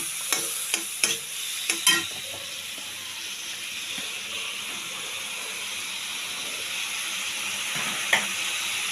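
Banana flower being stir-fried with spices and oil in a pan, a few sharp clanks of a spoon against the pan at the start, then a quiet steady sizzle with faint hiss, close and calm, no speech.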